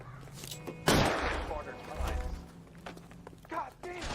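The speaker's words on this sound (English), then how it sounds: "I'm going to take a shot." Gunshots in the video game L.A. Noire, one sharp loud shot followed by a rolling echo and a few fainter reports, with game dialogue voices around them.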